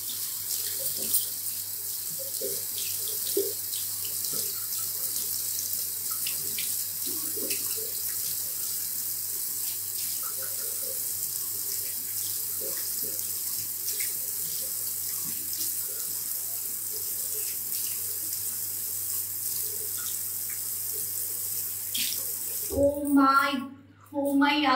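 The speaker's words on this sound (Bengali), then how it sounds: "দাঁড়ান আমি একটু ভালো মতো ধুয়ে নিই।" Tap water runs steadily from a faucet into a sink while someone rinses milky white residue off their face, a continuous close splashing stream that cuts off near the end.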